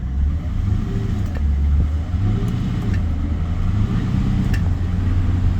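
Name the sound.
car engine revving while driving with transmission trouble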